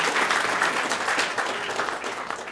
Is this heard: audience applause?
yes